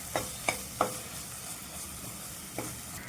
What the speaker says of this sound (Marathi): वाटण पण त्याच्यामध्ये आपण असं मिक्स करायचं आहे.